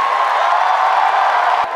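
A concert audience roars with dense applause and cheering for a guest performer, a loud, sustained wash of clapping and shouts filling the hall, fading slightly at the end.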